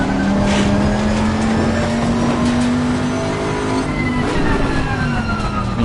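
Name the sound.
race car engine accelerating in ACC (Assetto Corsa Competizione) video game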